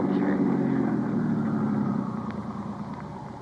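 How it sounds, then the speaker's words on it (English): A car engine idles in a 1950s old-time radio detective drama, a steady low rumble close by that eases down slightly toward the end. "Just leave the engine running"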